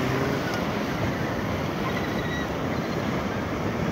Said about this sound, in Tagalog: ang lakas ng alon, grabe